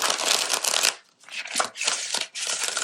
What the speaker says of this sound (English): One more shuffle and then we'll...